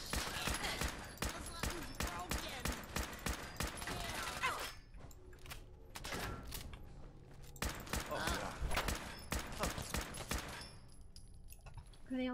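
Rapid bursts of gunfire in a Fallout mod, dense rattling volleys for several seconds, a brief lull, then more sustained firing, fairly close and continuous, with a voice occasionally underneath.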